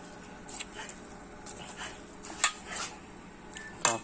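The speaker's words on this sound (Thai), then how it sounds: "เราก็คนให้มันเข้ากันครับเพื่อนเข้ากัน" A spoon stirs pepper and a little fish sauce into ingredients in a cooking pot, making faint, scattered metallic clinks and scrapes over a quiet kitchen background.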